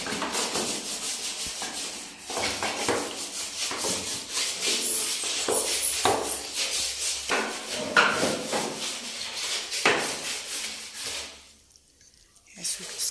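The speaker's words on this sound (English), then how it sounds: "Yes, we scrub it clean." A brush with dishwashing soap scrubs a bathroom floor in rhythmic, close, rasping strokes that continue for several seconds, with a few knocks. The scrubbing eases off near the end.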